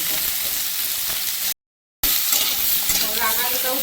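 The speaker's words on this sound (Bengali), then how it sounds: "এটা কাঁচকলা অনেক সবজি তো একটু ভেজে না নিলে ভালো লাগে না" Vegetables with green banana fry in a pan with a continuous loud sizzle and stirring scrapes, cut by a brief half-second gap of silence. The sound is close, with no voices.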